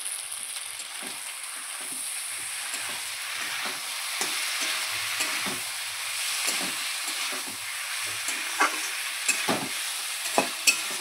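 Spices, potatoes and onion stir-fried together for a rural Bengali puti fish chorchori, a steady close sizzle with scattered scraping clicks of the spatula building toward a few louder knocks near the end.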